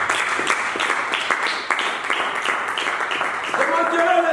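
A church congregation applauds God in steady rhythmic clapping, fairly close and lively, under people speaking and singing in French.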